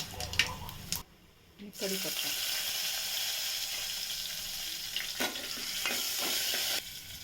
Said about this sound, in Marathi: तेल चांगलं तापलं तेला जाताना लसूण जिरं मोरी कढीपत्ता हिंग आणि लाल तिखट टाकून ना फोडणी देते